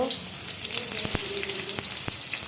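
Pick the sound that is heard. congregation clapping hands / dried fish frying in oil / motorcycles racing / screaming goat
dried fish frying in oil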